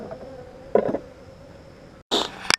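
Honeybees buzzing inside a small, weak beehive with a queen, a steady faint hum with brief louder bursts up close, no talking.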